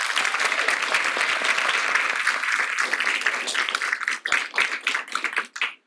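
Loud, sustained audience applause for a poet taking the stage, dense clapping that thins into scattered individual claps toward the end.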